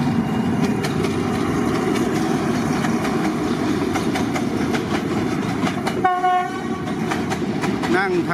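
A freight train passes at Bang Sue Junction with a loud, continuous rumble and clickety-clack of wagons close by, then a horn sounds and squealing brakes ring out near the end.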